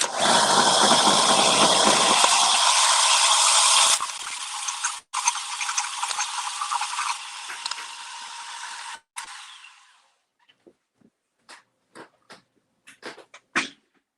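A power saw fitted with a 1/4 inch metal cutting blade runs loud and close with a dense mechanical whine for about nine seconds, shifting pitch midway, then stops, followed by scattered clanks and knocks.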